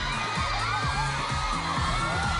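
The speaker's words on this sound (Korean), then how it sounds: "지금 팬들의 함성 때문에" Fans at the 2016 MAMA red carpet for EXO cheer and scream in a loud, continuous high-pitched roar. Shrill whoops rise and fall over a deep rumbling crowd bed.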